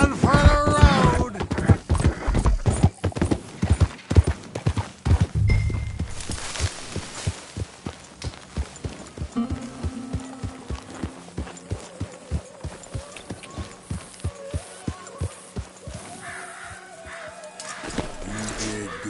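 In the Red Dead Redemption 2 video game, a horse's hooves thud in a fast steady rhythm that gradually slows, with a neigh in the middle, alongside background game sounds and someone talking.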